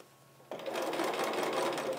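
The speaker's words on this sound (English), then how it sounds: "Stitch off my scrap a bit, slide the pieces under, and stitch on down." A sewing machine starts up after a quiet moment and runs steadily, its needle rattling in a fast even hum as it stitches pansy patch quilt block pieces together, close and alone.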